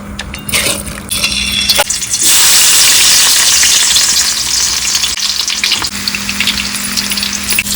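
Vegetables sizzle loudly in hot mustard oil in a kadhai, a continuous crackling fry with occasional clinks and scrapes of stirring, close and steady throughout.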